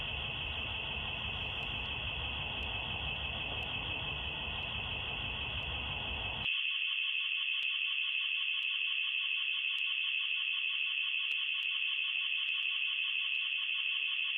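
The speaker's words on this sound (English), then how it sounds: "I'm assuming that's their security alarm." A house security alarm shrills with a steady high tone, loud and continuous, over a rumbling background that drops away partway through, leaving the piercing alarm alone.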